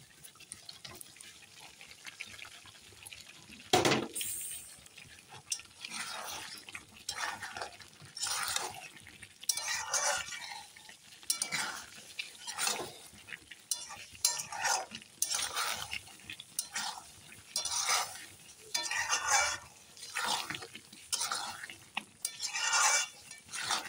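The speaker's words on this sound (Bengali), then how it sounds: "দেখো এখন আমি ভেজে রাখা আলুগুলো দিয়ে দিচ্ছি। আলু দিয়ে আরও কষিয়ে নেব।" Chicken curry with fried potatoes being stirred and tossed in a pot, a spoon scraping and clinking against the metal in irregular bursts with soft wet sizzling between them, close and moderately loud with no talking.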